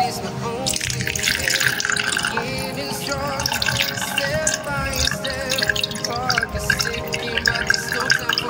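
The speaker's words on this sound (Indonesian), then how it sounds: "Lalu kita akan masukkan air" Water is poured slowly into a container while building a small artificial ecosystem, a steady trickling and splashing stream that runs continuously at close range.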